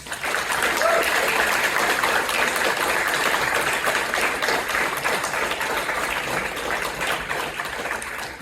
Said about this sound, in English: Can I have a massive round of applause, please, for Billy Mitchell?